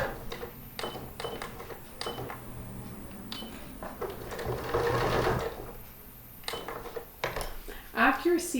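A sewing machine stitches a corset busk along a drawn line in bursts of rapid mechanical clatter, pausing between runs, with a few small metallic clinks near the end.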